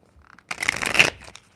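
A deck of tarot cards is shuffled once in a quick riffle, a brisk papery flutter lasting about half a second after a few soft handling taps.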